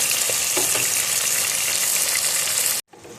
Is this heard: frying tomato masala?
yes